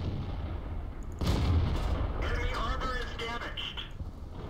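Tank cannon shot in World of Tanks from the M56 Scorpion, a sudden loud boom followed by a rumbling tail, with other game effects and chirpy sounds layered behind.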